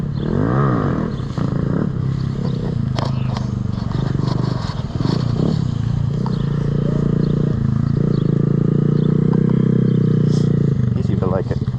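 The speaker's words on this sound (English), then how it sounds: "Looks like we got a little grom coming up." A small Honda Grom motorcycle approaches at a gas station, its engine droning and shifting pitch up close as it revs and rolls in, with people talking over the sound.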